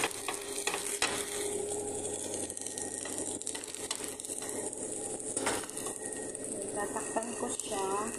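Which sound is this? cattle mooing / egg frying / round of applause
egg frying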